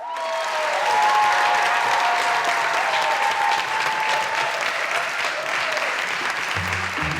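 A studio audience claps loudly to vote during a Turkish television show, with sustained, dense applause that fills the room from start to finish and a brief voice or tone near the end.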